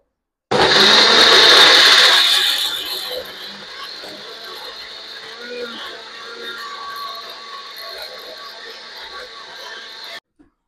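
An electric grinder jar blends vegetables for juice, starting with a loud, dense whir for about two seconds, then easing to a steadier, quieter churning hum that runs on until the motor stops abruptly.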